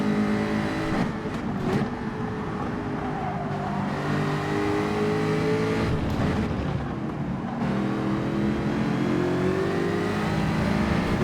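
Race car engines in Gran Turismo 7 drone continuously at close range, with pitch rising and falling through gear changes and brief dips as the cars slipstream toward a chicane.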